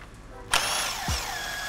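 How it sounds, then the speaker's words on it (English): A power tool on a BMW X5 rear suspension spins up sharply with a loud, high whirring buzz while removing the lower shock bolt, its pitch wavering briefly as the bolt turns. "Then remove just the lower shock bolt."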